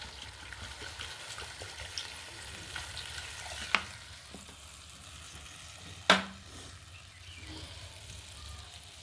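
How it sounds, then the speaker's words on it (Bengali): Water poured into a pan of frying masala with tomato and capsicum gives a soft, steady sizzle and bubbling, broken by two sharp splashy bursts. "এবারে জল দিয়ে দিচ্ছি।"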